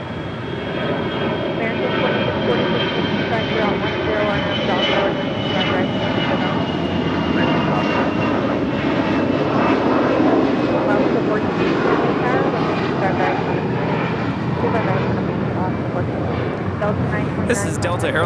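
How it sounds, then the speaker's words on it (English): Delta Airlines A321 jet departing LAX, a loud sustained engine roar with a steady whining tone over broad rumble, continuous throughout with voices talking underneath. "This is Delta Airlines 929 departing to Dallas Fort Worth on an A321."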